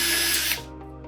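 A power drill whirs steadily as it drives self-tapping screws into aluminium gutter guards, then winds down and stops, leaving a quiet tail with a couple of faint clicks.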